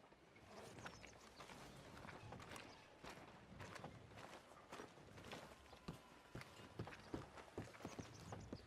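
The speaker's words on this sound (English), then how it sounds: "I'll go get the horses and then wait here." Horse hooves clip-clop at a walking pace in Red Dead Redemption 2 on PS4. The steady, fairly soft hoofbeats come with occasional creaks of tack, and no one speaks.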